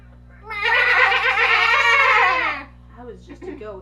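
A voice imitates a goat's bleat in a Pokemon-style noise, one long wavering loud cry lasting about two seconds, followed by quieter murmuring sounds.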